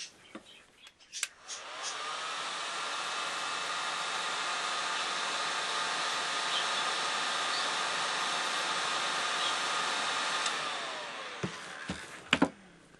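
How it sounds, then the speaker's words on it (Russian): A hair dryer whirs on with a click and blows in a steady, loud rushing drone for several seconds to warm wax for waxing thread, then shuts off, followed by a few handling clicks. "взять воск, строительный или обычный фен, слегка подогреть его"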